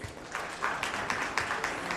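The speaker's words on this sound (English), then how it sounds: "I think this needs a round of applause" A small crowd at a school education awards event claps and applauds, the sound fairly faint and distant, with scattered individual claps rising in brief bursts.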